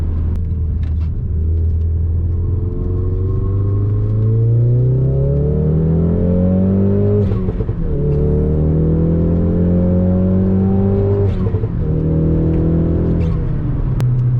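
A Jaguar S-Type R's engine runs steadily while driving, its pitch rising and falling through gear changes. The rumble stays close, loud and continuous, with no talking over it.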